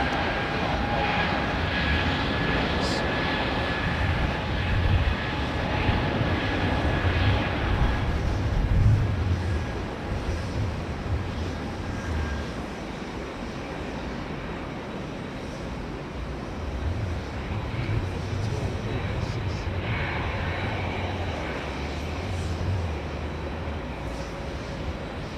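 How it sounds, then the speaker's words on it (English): A LATAM Boeing 787 Dreamliner with Rolls-Royce Trent 1000 engines departs, its continuous jet roar loud and near, swelling mid-way then settling into a steady rumbling drone with faint whining tones over it. "LATAM Dreamliner, LATAM, running the Trent 1000s."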